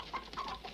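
A capon clucks in soft, brief bursts during a cockfight, faint and close with low background hiss.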